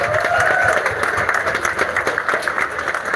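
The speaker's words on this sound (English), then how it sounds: "Give her a round of applause." A crowd applauds at a 2023 creative collective gathering, steady close clapping with some cheering mixed in, lasting a few seconds.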